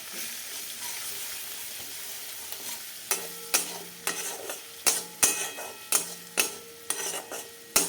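Chopped tomato with salt and turmeric is stirred in a frying pan for a fish curry. A soft, steady sizzle is followed by a run of sharp, regular scrapes and knocks of the spoon against the pan.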